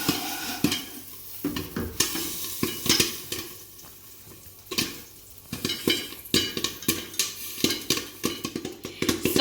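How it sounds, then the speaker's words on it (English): Popcorn popping in a covered pot on the stove while the pot is shaken, rapid scattered pops and rattling kernels against metal, with a brief sliding shake, close and busy throughout. "So it's popping a lot now, so I'm going to give the pot a shake so that the salt gets incorporated everywhere."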